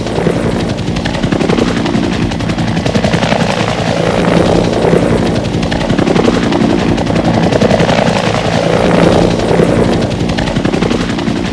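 A military medevac helicopter flies close by, its steady rotor thump and engine drone loud and continuous throughout with no pauses or voices.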